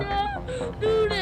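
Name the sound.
child crying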